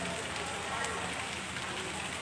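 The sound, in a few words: rain at a bus terminal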